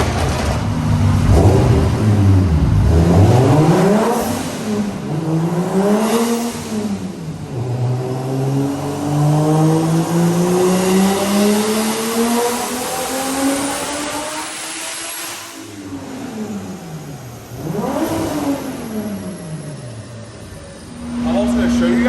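BMW E36 with turbo boost creep on a dyno after a wastegate spring swap, engine loudly revving up and down through repeated climbing and falling sweeps, with a long sustained pull in the middle, voices present underneath.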